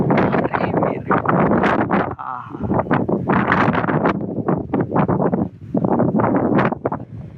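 Wind blows across a rooftop, buffeting the microphone in rough, uneven gusts that come and go with brief lulls.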